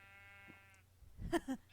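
A Minecraft sheep gives a short, quiet bleat near the end, after a faint tonal hum, brief and alone with no talking.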